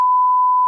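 A single steady electronic beep tone, clean and loud, lasting under a second with abrupt start and stop, used as a censor bleep.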